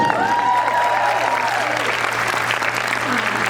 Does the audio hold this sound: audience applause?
yes